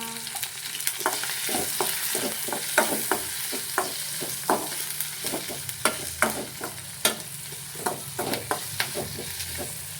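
Egg biryani ingredients fry in a pan with salt and turmeric, giving a steady close sizzle broken by frequent sharp scraping taps from a spoon stirring.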